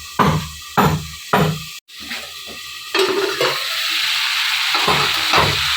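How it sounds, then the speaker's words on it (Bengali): Mixed vegetable curry cooking in a pan: steady sizzling and frying runs throughout, with several sharp spoon scrapes and stirring knocks against the pan early on, fairly close and loud, with no talking. "এই যে এখানে একটা পাঁচ মিশালি তরকারি রান্না করছি রুটি দিয়ে খাওয়ার জন্য।"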